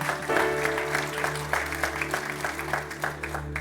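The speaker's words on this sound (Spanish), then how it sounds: "Denle un aplauso fuerte al Señor porque Él es bueno" A church congregation applauds during a sermon, a steady round of clapping with a low hum beneath it that gradually thins toward the end.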